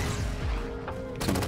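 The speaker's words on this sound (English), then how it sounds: "I'm hearing some strange gunfire noises." Gunfire in a video game, a dense clatter of rapid shots that runs through the whole stretch and swells into a sharper, louder burst near the end.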